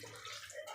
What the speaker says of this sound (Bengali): এরপর আমি জল দেব, অনেকটা মাছ আছে।